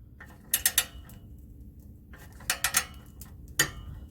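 A hand ratchet works on a bolt on a Jeep Wrangler JKU six-speed NSG 370 transmission, making two quick bursts of three sharp clicks and then a single click, close and clear with no talking.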